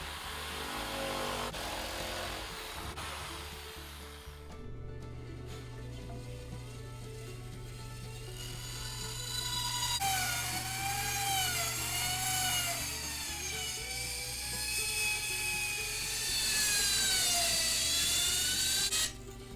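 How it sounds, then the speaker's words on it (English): A power tool cuts a piece of pine for a turkey call lid with a dull blade, giving a buzzing, whining cut that rises and wavers in pitch, loud and close with short pauses and no speech. "I'm going to go ahead and cut out a piece of pine for the lid."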